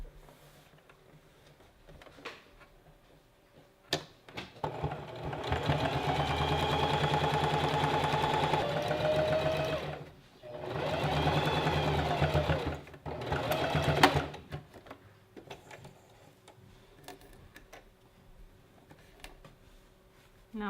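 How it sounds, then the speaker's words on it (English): A sewing machine runs a hem along a dress sleeve in two steady bursts of close, even stitching, the first about five seconds long and the second shorter, with quiet pauses around them and no talk. "I'm just going to fold it over once and stitch over the top of it very close to the edge."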